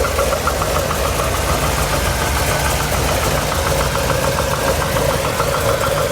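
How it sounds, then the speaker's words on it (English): A Pontiac G8 GT V8 idles steadily with the hood open, giving a loud, continuous engine rumble with a fine rhythmic ticking layered over it and a noticeable vibration, with no talk. "take a look at the motor while it's running"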